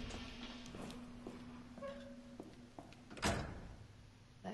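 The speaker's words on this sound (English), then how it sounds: "at least we can open the door" A door opening in the video game Resident Evil 2 Remake, a creaking, scraping movement and a sharp thud, faint and close amid a few soft footsteps in a quiet room.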